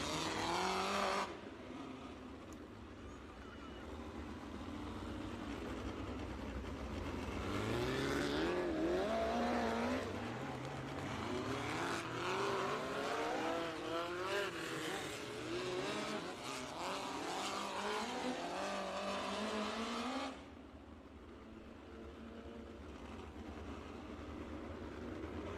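Race cars roar around the Thunder Hill Speedway track, a sustained loud engine drone with rising and falling revs as cars pass, fading down near the end.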